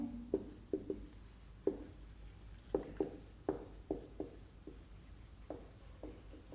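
A pen tapping and scratching on paper or a board while notes are written during a biology lecture, a series of quiet, irregular close taps and short strokes with no talking.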